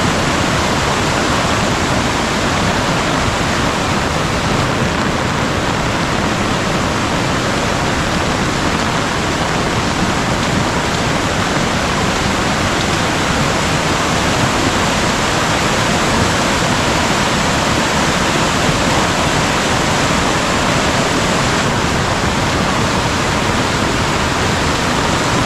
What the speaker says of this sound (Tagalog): Malakas na parakas yung tubig,